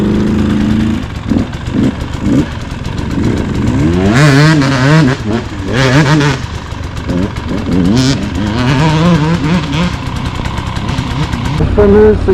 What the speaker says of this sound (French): Et la moto, elle est grosse et elle est lourde.